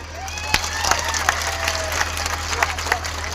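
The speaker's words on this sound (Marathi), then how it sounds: "जरा दोन्ही हात वर करून एकदा टाळी वाजवावी" Crowd at an outdoor political rally clapping together in scattered, uneven applause, with faint cheering and voices, heard steadily over a low constant hum.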